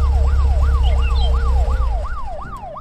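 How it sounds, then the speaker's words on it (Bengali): A wailing emergency siren, police car and ambulance type, sweeps up and down in a steady repeating cycle over a low rumbling engine, loud and close, then gradually fades as if moving away, with no talk. "দুটো পুলিশের গাড়ি এবং একটি অ্যাম্বুলেন্স বাড়ির সামনে দাঁড় করানো অবস্থায় আছে।"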